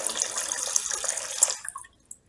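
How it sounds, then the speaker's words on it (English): A 12V DC pump switched by an ESP32 through a relay pushes water in a close, steady splashing stream that cuts off after about a second and a half, leaving a few faint drips. "now you can see it's pumping water"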